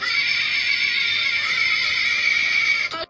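A human voice imitates the choking cry of a Suanggi ghost from eastern Indonesian folklore. It is a strained, high, wavering wail held for about three seconds before it breaks off, loud and alone.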